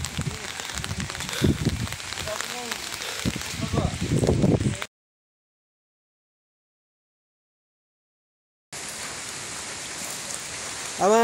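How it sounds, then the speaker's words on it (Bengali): Rain falling on the hilltop settlement of Konglak Para, a steady dense patter with a voice talking over it, broken by a stretch of silence before the rain resumes. "এখনও বৃষ্টি পড়ছে"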